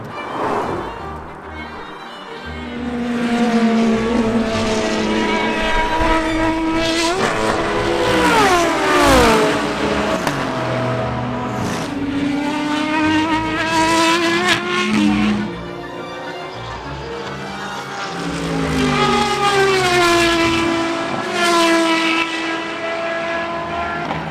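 Race cars roar past at a 10-hour endurance race at Michelin Raceway Road Atlanta, engines revving and sweeping through rising and falling pitch, loud and continuous with one pass following another.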